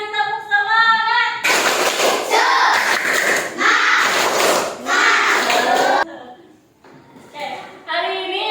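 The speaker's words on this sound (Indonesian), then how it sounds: "Satu kali lagi tepuk semangat" A class of schoolchildren performs a rhythmic spirit-clapping chant, bursts of group clapping and shouted unison voices in a classroom, with a teacher's voice speaking before and after.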